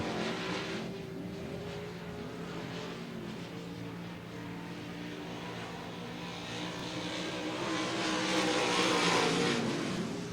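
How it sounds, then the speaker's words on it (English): Race cars at Devil's Bowl Speedway roar continuously as they battle through the final laps, a dense engine drone that swells louder near the end as the pack comes closer. "here comes the 3C of Charlie Smith trying to get up underneath."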